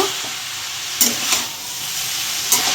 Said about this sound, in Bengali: কুমড়ো আলুর সঙ্গে বাঁধাকপিটা একটু ভেজে নেব